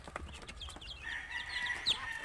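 Young chicks on a poultry farm give several faint, high peeps close by over low background noise.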